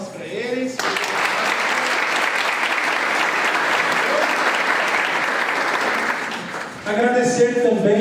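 A church congregation at a São José Operário feast Mass breaks into sustained, dense applause for about six seconds, with voices heard just before and after the clapping.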